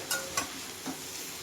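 Bottle gourd greens with prawns and turmeric stirred in a pan: two quick spatula scrapes and a softer third over a faint, low sizzle.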